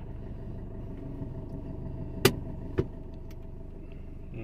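A car engine idles faintly and steadily after being started during a driving lesson, a low muffled rumble broken by two sharp clicks partway through.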